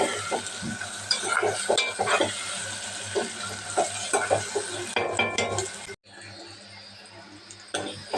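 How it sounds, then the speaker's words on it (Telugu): Tomatoes frying in a pan, stirred with a utensil that scrapes and clinks steadily against the metal over a continuous sizzle, with a quieter stretch near the end. "ఈ టమాటాలు ఇవి ఏంటంటే పచ్చివాసన పోయేదాకా అయితే ఫ్రై చేసుకోవాలి."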